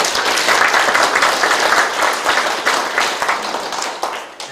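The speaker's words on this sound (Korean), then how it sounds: "우리 그 김혜영 회장님부터 그 위원님들께 박수 한번" Loud, continuous applause from residents at a community meeting with the mayor in Changjeon-dong, a thick wash of clapping holding steady for several seconds and tapering slightly at the end.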